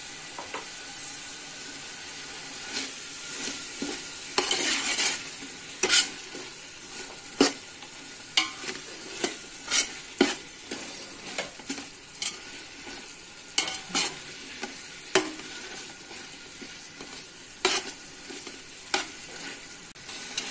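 Chicken tahari stirred and fried over a high flame: a continuous sizzle punctuated by frequent sharp spoon scrapes and clacks against the pot at an irregular rhythm, close and clear with no talking.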